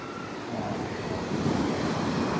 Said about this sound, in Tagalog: Lalaki na alon.